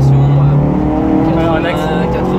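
A Renault Clio 3 RS phase 1 accelerates hard, its engine note droning loud and close and rising steadily, with voices talking over it inside the car.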